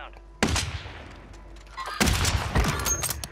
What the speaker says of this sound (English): Got shooting to the left